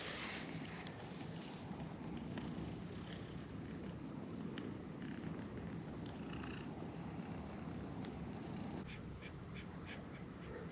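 A small kitten purrs steadily for the whole stretch, a low continuous rumble heard close up on a sunny sandy beach, with faint wind and outdoor background noise and no talking.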